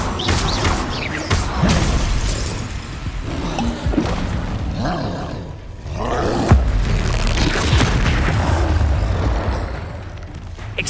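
Fire and blasting spells like Incendio and Confringo burst and crash in Hogwarts Legacy combat. Booms and shattering impacts keep overlapping in a loud, busy stretch.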